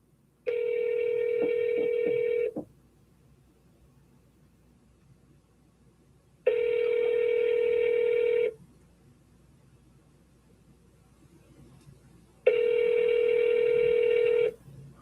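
A telephone ringback tone sounds while a call connects, three long, evenly spaced rings of about two seconds each, separated by roughly four seconds of quiet, clear and alone.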